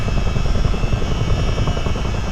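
A Chinook tandem-rotor helicopter in a flight simulator game gives a continuous, loud rotor chop and turbine drone that holds steady throughout, alone with no voices.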